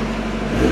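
A Mazda Miata MX-5 engine, in neutral after a clutch replacement, gives a brief steady low rumble that swells slightly at the end, close and loud with no talking.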